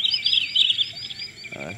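Rẽ shorebird decoy calls played for bird trapping, a steady run of high, close chirps and tweets that carries for most of the moment before fading out.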